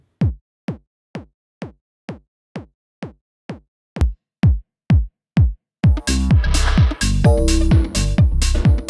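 Distorted parallel drum chain through Camel Crusher, high-passed: a steady run of thin, clicky hits that grow louder, then a gritty full-band crunch with heavy saturation joins the beat for the last few seconds.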